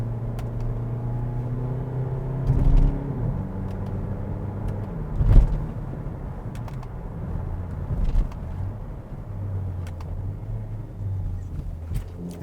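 2020 Kia Niro Hybrid hatchback on the road shifting gears, heard from inside as a steady low drone with engine tones stepping down at each shift, plus occasional clicks and bumps; no talking.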